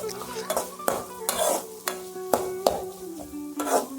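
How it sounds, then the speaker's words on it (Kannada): Washed field beans (avarekalu) fry in a pan, a utensil stirring them with repeated scraping clinks over a soft, steady sizzle. "ಅವರೆಕಾಯಿನ ತೊಳ್ಕೊಂಡು ಅದನ್ನು ಚೆನ್ನಾಗಿ ಹುರಿದ್ಕೊಳ್ಳಿ."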